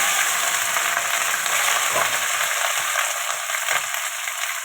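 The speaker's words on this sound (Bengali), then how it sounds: "ভেন্ডিটা ভেজে নেব, তার জন্য তেল দিয়ে দিলাম।" Okra frying in hot oil on a gas stove, a continuous bright sizzle with occasional stirring scrapes and clinks through the middle.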